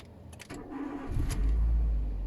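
A car engine cranks briefly and catches with a key turn, settling into a steady, quiet idle close by.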